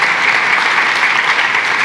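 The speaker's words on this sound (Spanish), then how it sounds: "denle un aplauso a ellos" Audience applause during a Spanish-language podcast recording, loud and steady, a dense burst of many hands clapping together with no voices over it.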